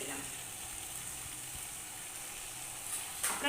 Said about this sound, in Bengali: একটু মিডিয়াম ফ্লেমে রেখে এটাকে আস্তে ধীরে কষিয়ে নেব